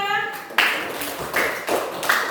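Scattered handclaps from a class of students applauding their group, a few sharp bursts of clapping mixed with speech in the background.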